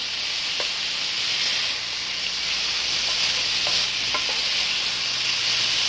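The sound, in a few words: shrimp being turned over and frying in a pan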